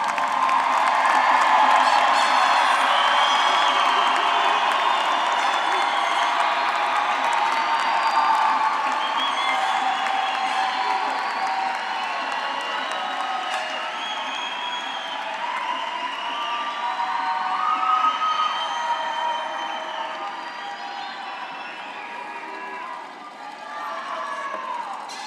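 A large commencement crowd at a fall university graduation cheers and applauds steadily for about 25 seconds, with whoops, shouts and dense clapping staying loud throughout and easing slightly toward the end.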